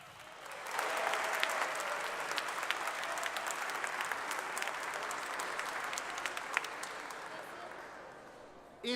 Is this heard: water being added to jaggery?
no